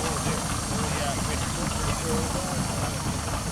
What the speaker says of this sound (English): it's just gently ticking over. It's not producing any work at all.